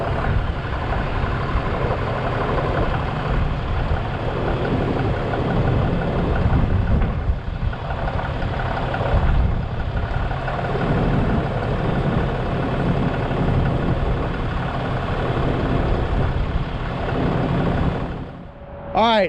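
A Ford Powerstroke diesel truck rumbles through a cold start into a loud, steady, gravelly idle, close by and sustained for the whole stretch, ending in a brief squeal.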